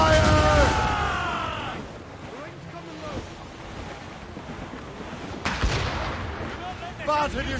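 Ship cannons fire in a naval battle in Assassin's Creed Rogue, heavy booming blasts bursting out over ocean surf and wind, with shouted voices heard near the start.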